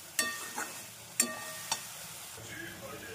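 Baingan bharta being stirred in a kadai: a soft sizzle of frying underlies a few sharp scraping strokes of the spoon against the pan, spaced irregularly, close and moderately quiet.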